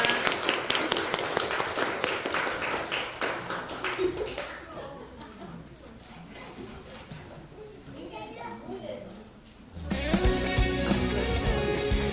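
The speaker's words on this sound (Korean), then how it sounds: "감사와 영광의 박수 올려드립니다" A congregation applauds during a Sunday morning church service, with a dense burst of clapping at the start and again near the end, children's voices and chatter filling the quieter middle.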